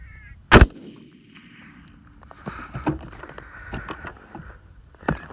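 A single sharp rifle shot cracks out once early during a coyote hunt, loud and close, followed by a fading tail and scattered faint knocks and rustles of movement outdoors.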